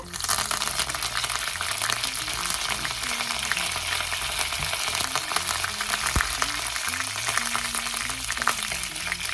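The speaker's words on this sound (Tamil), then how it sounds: "பார்த்தீங்கன்னா கருவேப்பிலை நல்லா பொரிஞ்சிருச்சு" Curry leaves and peanuts frying in hot oil for tamarind rice, a steady dense sizzle and crackle filling the whole stretch, close and fairly loud, with faint low hum beneath and no talking.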